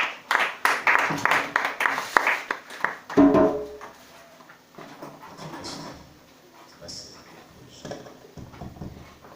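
A church congregation claps in rhythmic, loud bursts during a worship service, then the clapping breaks off into quieter scattered sounds and murmurs.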